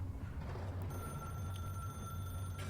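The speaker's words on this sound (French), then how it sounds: "El famoso téléphone qui ne s'arrête plus." A telephone bell rings steadily and continuously through a music video, its tone sitting over a dense, loud music bed.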